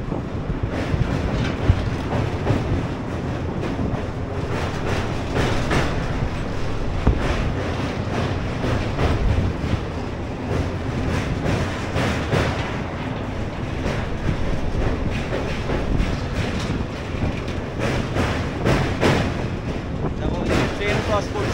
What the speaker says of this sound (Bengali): দেখো ওদিকে একটা ট্রেন ক্রস করছে, most probably Shalimar special train